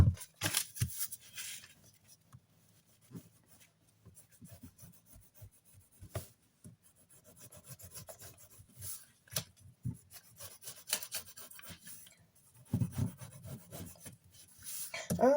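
Scissors snip paper to make a paper flower, giving intermittent close rasping cuts and rustles scattered irregularly with quiet pauses between them.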